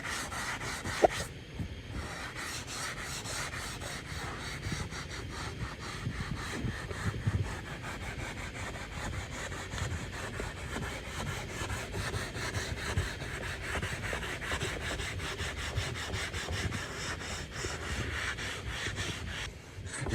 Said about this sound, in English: I'm going to try to lightly sand down the rough, abrasive edges of it